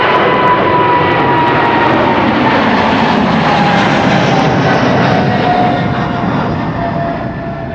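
An Emirates Boeing 777-300 jet bound for Dubai rumbles loud and close at Amsterdam Schiphol airport, its broad steady engine roar holding with a faint high whine on top, then easing off slightly toward the end.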